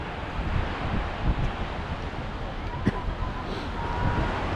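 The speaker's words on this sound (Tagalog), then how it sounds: "Pag mga ganitong panahon, malakas na talaga alon." Strong ocean waves and wind on a Boracay beach in the Philippines, a continuous rough wash of surf with wind buffeting the microphone, and voices murmuring underneath.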